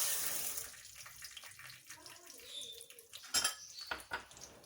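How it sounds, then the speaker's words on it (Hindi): Popcorn kernels poured into a pan with ghee and salt on a home stovetop, a short clattering rattle of small hard grains against metal amid faint kitchen clinks, close and quiet. "अब इसमें पॉपकॉर्न डालेंगे"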